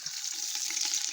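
Chopped coconut and raisins frying in hot ghee in a pot, giving a steady, close hiss of sizzling that stays fairly even throughout, with no voices.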